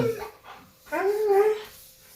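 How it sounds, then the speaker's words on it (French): A dog whimpers and whines in a home while a power screwdriver runs somewhere nearby, a short high cry rising and falling in two bursts, fairly close and alone. "c'est pour ça qu'il pleure le chien. C'est parce qu'on entend la visseuse."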